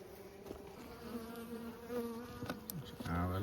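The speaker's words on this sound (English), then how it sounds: "beautiful bees, really lovely" Buckfast honey bees buzz at the hive in a steady, close drone, with individual bees whining past as their pitch rises and falls, and a louder swell at the end.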